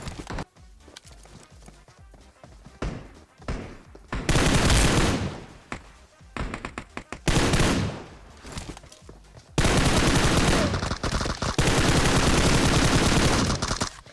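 Gunfire in the PUBG Mobile battle royale game: several loud sustained bursts of automatic fire, with stretches of scattered single shots between them and no voices in between.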